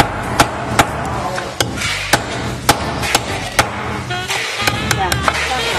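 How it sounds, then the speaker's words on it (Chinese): Sharp knocks chop at the tail ends of sea snail shells, about a dozen loud, separate thwacks at an irregular pace close by, with faint voices behind. "一定要敲到尾部一点，不然等一下吃的时候啊，你根本用那个螺啊出不来的"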